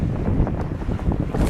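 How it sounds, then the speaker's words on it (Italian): Strong mistral wind blowing at a beach, buffeting the microphone with a loud, continuous low rumble and gusty roar, and no voices heard. "questo è un tipo di maestrale"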